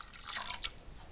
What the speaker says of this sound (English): So now I'm pouring it all in.